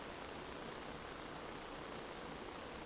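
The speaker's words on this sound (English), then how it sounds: "That's okay. It's raining." Rain falls in the game Agrarian Skies as a steady, even hiss of broadband noise, constant and fairly quiet with no distinct drops or voices.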